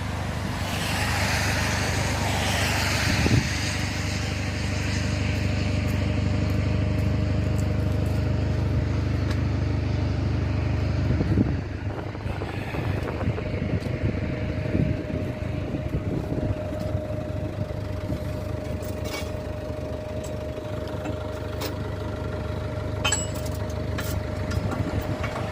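Diesel engine of a Nordest SD23 cable excavator running steadily at close range, a continuous loud low rumble with a sustained hum and occasional clanks, no talking over it.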